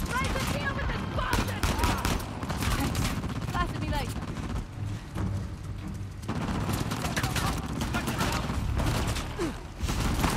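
Steady game gunfire in Uncharted: The Lost Legacy, a dense unbroken barrage of shots with loud booming impacts throughout, mixed with music and effects, while a voice speaks over it now and then.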